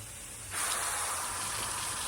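Water bursts on at about half a second from an Eden 7-pattern metal garden hose watering wand set to mist, turning a quiet background into a steady, fine, bright hiss that holds to the end.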